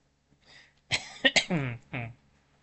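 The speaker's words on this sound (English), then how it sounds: "Now I am coughing too." A short bout of coughing in a video game stream, several harsh coughs in quick succession, close and fairly loud in a quiet space.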